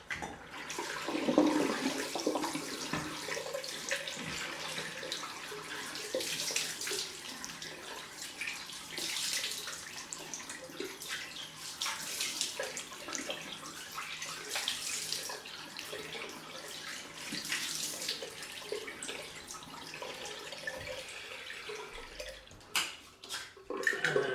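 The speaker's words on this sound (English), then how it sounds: "Time to just wash off. And then I think I'm going to go straight to the cold rinse." Running water rinses off a freshly shaved head, a steady broadband splash from a tap or shower that holds for about twenty seconds with small shifts in flow before easing near the end.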